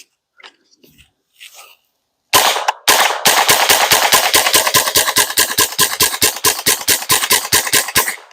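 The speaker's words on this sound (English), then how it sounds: "Out at the range, we're now going to test the Smith & Wesson" Smith & Wesson 15-22 pistol fired live at an outdoor range: a few quiet handling sounds, then one sharp report, a brief pause, and a long steady string of loud, evenly spaced shots, roughly three to four per second, close and alone.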